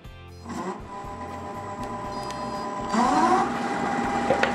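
A wood lathe starts up and runs with a steady motor hum and tonal whine that rises in pitch as it speeds up, close and moderately loud, with no talking.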